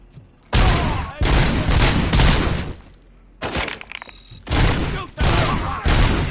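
Bursts of rapid gunfire from the RoboCop PS5 video game: loud, close volleys in several separate salvos, each about a second long with short gaps between them, with no talk.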